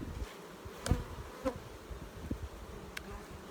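Honey bees buzz softly around opened hive colonies full of nectar, a faint continuous drone with a few individual bees passing close by, and no voices.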